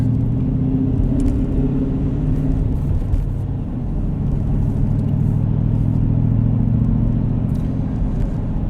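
A 2019 Dodge Challenger R/T Shaker with a six-speed manual rumbles steadily from inside the cabin while driving, a deep continuous engine drone with slight shifts in pitch and no talking.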